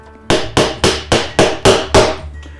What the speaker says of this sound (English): take your rivet setter and hammer and set the burr down onto the rivet